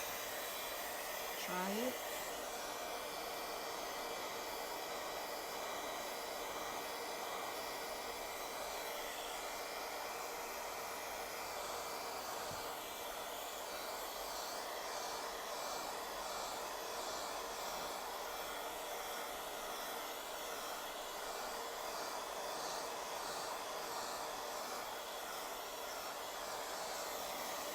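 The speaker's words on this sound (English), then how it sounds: "go back and take my heating tool" A handheld crafting heat tool blows hot air in a steady, continuous whoosh that runs unbroken from start to finish, with a brief spoken phrase near the beginning.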